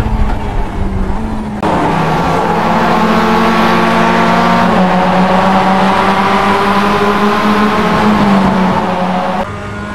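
A Mazda MX-5 race car laps Imola in the iRacing sim. The engine note is loud and close, climbs through the revs, and drops sharply at a gearshift early on before pulling again, with no talk.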